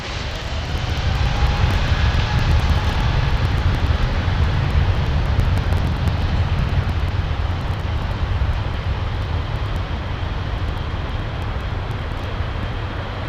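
An Airbus A350 jet roars through its takeoff roll at Heathrow, a loud sustained low rumble and broad engine noise, heard from a distance without talk.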